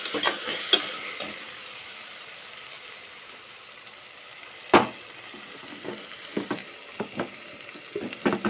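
Masala paste for a goat tripe and tomato curry fries in a pan, a soft continuous sizzle broken by a loud scrape and several sharp clatters of stirring.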